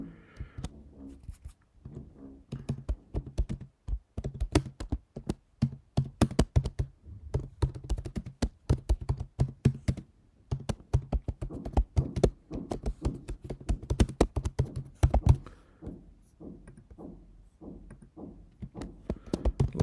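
Rapid, uneven keystrokes on a computer keyboard as an address is entered into a scholarship application form, with steady close-up clicking and brief pauses, no voices.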